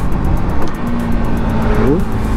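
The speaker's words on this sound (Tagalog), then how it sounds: "Engine brake, rev matching." A Yamaha XSR 155 motorcycle engine brakes in a loud, steady drone, with a quick rising rev blip near the end as the rider matches revs on a downshift.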